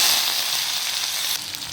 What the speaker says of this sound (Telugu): ఇప్పుడు ఈ ఉల్లిపాయలు లైట్గా వేగనివ్వాలి